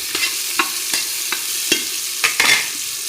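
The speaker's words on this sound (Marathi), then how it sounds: "असे मस्त तळू द्यायचे त्याच्यातच।" Food frying and being stirred in a pan over a wood-fired village stove, with an irregular series of close scraping stir strokes against a steady sizzle.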